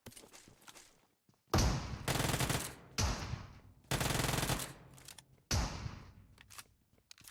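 Loud bursts of automatic gunfire in PUBG Mobile, with a Thompson submachine gun in use. There are four or five separate volleys with short pauses between them, and faint footsteps and quiet game sounds fill the gaps.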